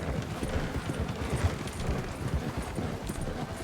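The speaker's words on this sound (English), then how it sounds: "Calling my trusty horse to follow me." Horse hooves clip-clopping steadily in Red Dead Redemption 2 as a summoned horse trots up, a continuous rhythmic patter of hoofbeats over a dense, noisy game background.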